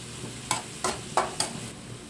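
Carrots are stir-fried in a pan for pansit canton, with a steady sizzle broken by four distinct scraping strokes of a spatula across the pan at an even pace, close and clear, with no talking.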